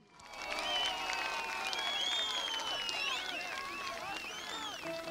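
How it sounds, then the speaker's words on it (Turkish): A political rally crowd in a city square in Isparta, Turkey, applauding for a CHP party leader. The clapping rises quickly into a sustained roar, with whistles and shouting crowd voices cutting through it throughout. "büyük bir coşkuyla alkışlıyoruz"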